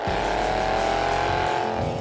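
A Roush Stage 3 Ford Mustang driving fast gives a continuous, loud engine roar heard from nearby with a steady high whine.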